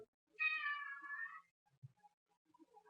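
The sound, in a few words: cat meowing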